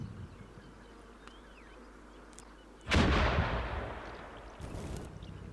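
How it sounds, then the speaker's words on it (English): A truck explodes in the combat game Combat Mission Shock Force 2, one sudden loud blast over faint insect-like buzzing that rolls off into a rumbling decay, followed by a smaller burst a moment later. "It's like again an explosion of the truck."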